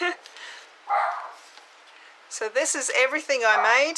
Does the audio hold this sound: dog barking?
yes